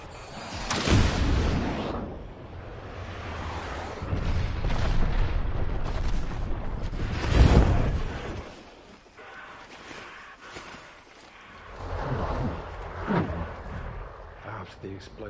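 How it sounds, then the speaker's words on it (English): Heavy explosions in a film battle scene with warships firing, heard as loud, deep booming blasts with rumbling roar, the biggest bursts near the start and middle, then quieter rumbles trailing off. "After the explosion cleared, everything was incredibly still."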